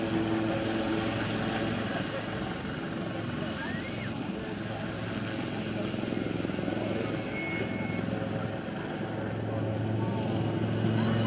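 Aircraft flying at the Malta International Airshow 2015, a steady, loud engine roar filling the whole stretch with only slight swells, no distinct pass-by peak.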